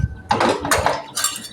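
Mustard seeds dropped into hot oil in a heated pan, giving clattering, crackling bursts with a few sharp metallic ticks, close and fairly loud with no talking.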